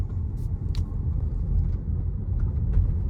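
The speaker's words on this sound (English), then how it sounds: "What you do notice is the engine sound." Inside a 2025 BMW X1, a low steady engine hum and road rumble fill the cabin at a moderate level, with faint light ticks and clicks scattered over the drone and no one speaking.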